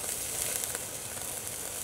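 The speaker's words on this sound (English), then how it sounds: "I think that little grease goes in there and makes it burn even better" Grease sizzles and crackles steadily on a Littlbug Sr. camping wood stove burning hot, a dense continuous hiss with small pops, close and fairly loud with no talking.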